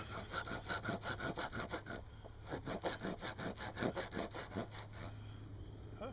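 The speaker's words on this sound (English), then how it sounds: "Not too bad as far as sawing goes." Steady back-and-forth sawing through wood with the saw-back edge of a SOG SOGfari machete, a quick regular rhythm of rasping strokes, close and fairly loud, with a low hum underneath and no talking.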